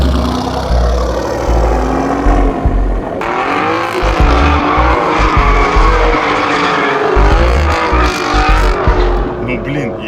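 An Alfa Romeo Giulia Quadrifoglio under a differential lock test roars loudly with rising and falling engine revs and squealing tires throughout, close and sustained, with voices talking over it.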